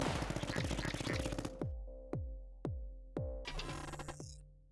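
Defense towers firing in the Tower Dominion game: a rapid burst of overlapping shots, then a steady sequence of separate heavy reports about half a second apart, each ringing out before the next.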